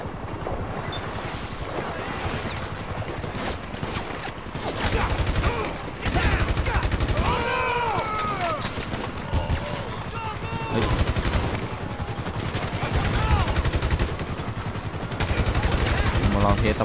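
Rapid volleys of gunfire from assorted weapons in GTA Online, loud and repeated in bursts, mixed with game effects and splashing water, with a voice talking over parts of it.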